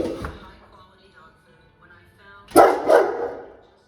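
A dog, Chuck, barks in two sharp close bursts near the end, following and overlapping someone talking.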